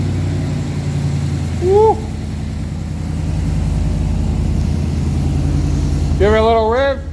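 A pickup truck fitted with a Walkingshaw full exhaust system rumbles at a deep, steady idle, loud and close, while a voice whoops over it twice.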